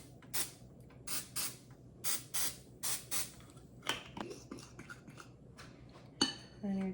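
Several short hissing bursts of cooking spray onto a waffle maker in a rapid series, followed by clinks and light clatter of kitchen utensils. No one speaks.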